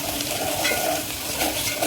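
Garlic paste hits hot oil in a pan while a dry moth bean dish is being cooked, giving a close, steady sizzle and crackle with light stirring scrapes and no voices.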